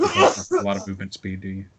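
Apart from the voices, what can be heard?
sneeze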